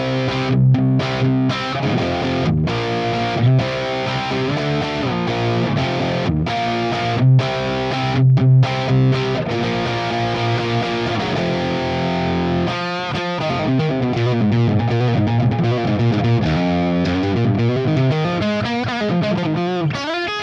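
Electric guitar through a Valeton GP-200 modeler on its UK 50 Plus amp model, based on a Marshall JPM 50, playing a distorted riff of chugging chords and sustained notes, then a busier lead-like passage, loud and continuous with no talking.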